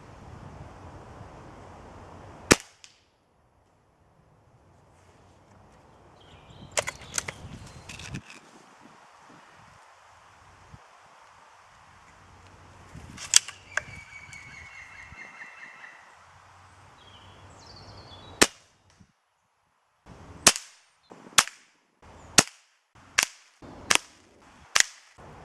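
Several sharp shots ring out in a woodland, aimed at a branch-end offcut target, scattered singly early on, then a quick run of six or seven evenly spaced cracks near the end, with wind and quiet gaps between.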